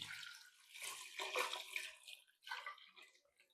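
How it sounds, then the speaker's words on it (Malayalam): Water is poured into a pot of Kerala sambar holding vegetables and tamarind water, making a faint, uneven splashing pour that rises and falls in two bursts, with no speech. "ഇനി ഇതിലേക്ക് ആവശ്യമായ വെള്ളം ആഡ് ചെയ്യുന്നുണ്ട്"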